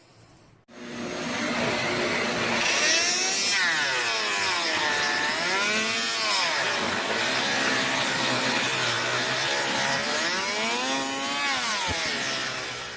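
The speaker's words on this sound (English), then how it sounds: "I think the blades on this planer are worn out. Normally it wouldn't slow down like that the way it did." Electric planer cutting across wooden boards, its motor whining loudly and steadily, then bogging down and rising again in pitch as the worn blades strain through the wood.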